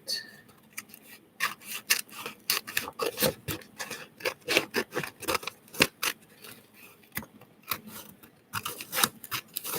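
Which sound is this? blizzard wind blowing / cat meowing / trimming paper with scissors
trimming paper with scissors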